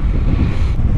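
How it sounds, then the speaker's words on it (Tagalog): Strong wind buffets the microphone during a road bike ride on the Al Qudra cycling track in Dubai, a loud, steady rumbling roar throughout the brief moment. "Sobrang lakas ng hangin."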